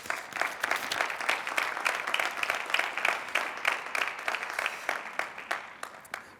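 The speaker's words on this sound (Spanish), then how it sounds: "Un aplauso, por favor." Conference audience applauding a nutritionist from the Rafa Nadal Academy at a tennis event, a dense steady wash of many hands clapping close and loud, holding for several seconds before tapering slightly at the end.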